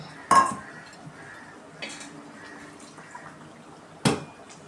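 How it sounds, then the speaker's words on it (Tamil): A spoon stirs dried fish curry with tamarind water in a pot, giving three sharp metallic clinks against the pot, spaced apart over quiet bubbling and faint background noise. "இப்போ இது மாதிரி நல்லா கிண்டி விட்டுக்கலாம்."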